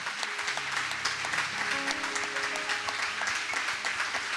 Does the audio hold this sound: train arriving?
no